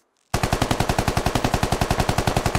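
A semi-automatic rifle fired in full auto in the video game SquadOps: after a brief silence, a loud, close, rapid stream of about twenty evenly spaced shots rattles on without a pause.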